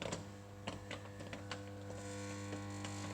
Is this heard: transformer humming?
yes